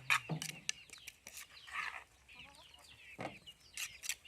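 Chickens cluck near and far at a rice field in the evening, in short broken bursts mixed with a few squawks, with quiet rural background.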